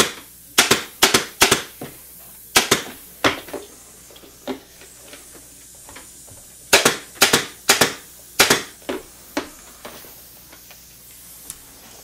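Upholstery staple gun driving half-inch staples, a run of sharp, loud snapping shots fired in quick bursts with short pauses between, close by and alone.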